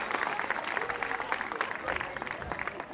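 A crowd at a Durga Puja community event claps loudly, a busy continuous patter of many hands with faint voices mixed in, holding steady throughout.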